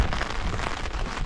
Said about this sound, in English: it has started raining on me